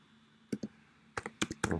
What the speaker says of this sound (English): so lousy typing, it's because I'm just holding my laptop on my belly